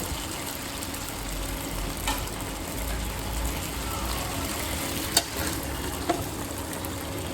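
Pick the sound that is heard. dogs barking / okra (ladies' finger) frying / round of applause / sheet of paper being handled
okra (ladies' finger) frying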